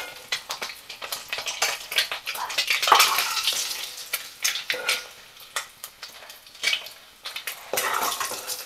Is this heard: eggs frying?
yes